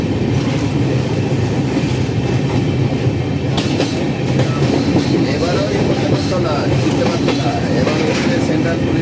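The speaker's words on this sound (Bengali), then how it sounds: "আর আমাদের ট্রেন এখন ফারাক্কা ব্রিজ ক্রস করছে।" A passenger train crossing the Farakka bridge, heard from inside as a loud, continuous rumble with rhythmic wheel clatter and occasional metallic screeches over the steady roar.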